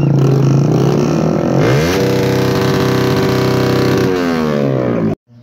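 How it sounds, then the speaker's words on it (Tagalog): A Honda RS 150 motorcycle engine is revved hard at full throttle, very loud and close. Its pitch climbs and holds at a high whine before it drops and cuts off abruptly at the end. "Full throttle natin to, sabugan na ng makina."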